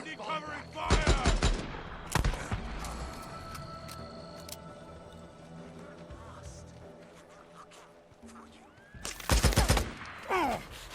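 Bursts of gunfire in the video game Days Gone during a fight with the Rippers, a loud volley near the start and another heavy burst near the end, with scattered shots and a steady background hum in between.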